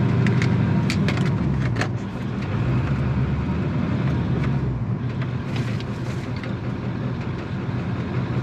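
A vehicle crawls along in second gear with four-wheel low engaged. It gives a loud, continuous drivetrain rumble with scattered clicks and rattles, steady and close, with no talking.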